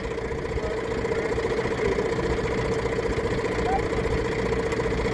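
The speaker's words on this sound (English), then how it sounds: "the Duke puts it in reverse, it spins the tractor wheels, shoves the baler backwards" A tractor engine runs steadily while reversing to shove a baler backwards over grass, a continuous loud mechanical drone with a constant low hum and no clear breaks.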